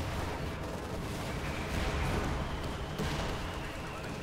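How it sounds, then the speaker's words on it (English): Dense, continuous rumbling battle din from the World War II strategy game Company of Heroes 2, with airstrike explosions and booms blending into a loud, steady wash of artillery-like blasts throughout. "I called a nice airstrike because I'm like, alright, he needs help."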